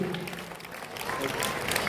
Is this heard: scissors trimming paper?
no